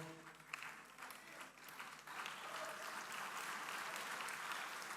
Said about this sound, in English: we need to keep the applause going strong